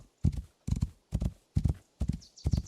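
Hooves of a horse in the video game Rising World clip-clop in a steady, close rhythm, six evenly spaced double-beat thuds with brief silences between them.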